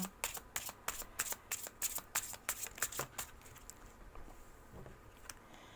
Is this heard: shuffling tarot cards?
yes